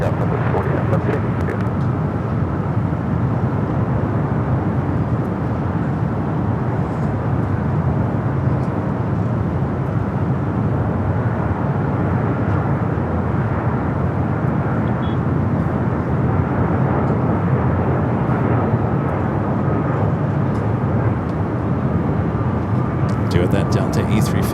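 A jet airliner takes off at LAX airport with a loud, sustained, broad engine roar that persists throughout, while a voice talks over it.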